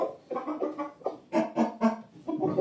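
Chickens at an Andijan rooster yard, a mix of clucking and short crowing calls in close, uneven bursts, fairly loud with no talking.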